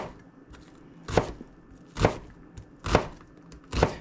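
A kitchen knife dicing onions on a cutting board, four sharp, evenly spaced chops roughly one second apart, close and clear with no talking.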